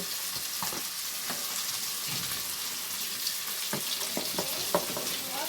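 Eggplant and chopped green chilies fry in oil in a pan with a dense, steady sizzle, broken by scattered clicks and scrapes of stirring, close and alone without talk.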